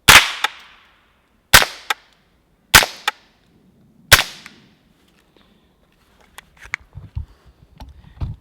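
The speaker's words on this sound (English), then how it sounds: "you are getting that supersonic crack" Four loud, sharp gunshots with a supersonic crack, fired outdoors into a bank, spaced about a second apart and each ringing out briefly. Faint scattered clicks and handling noises follow.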